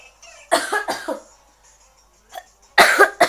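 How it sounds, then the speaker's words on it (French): A person coughs in two close-miked bursts, a rapid cluster of three harsh coughs followed after a pause by another short round. "Je vais encore tousser, c'est obligé."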